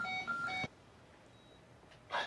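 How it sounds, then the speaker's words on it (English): An electronic beep sequence from the TV drama Sons of Anarchy plays as a short run of tonal bleeps, then a pause, then another brief beep at the end. "Beeping."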